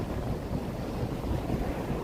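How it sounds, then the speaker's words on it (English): A Chicago water taxi ride gives a steady, low rumble of boat engine and water, with wind buffeting the microphone throughout. "But here, water taxi here."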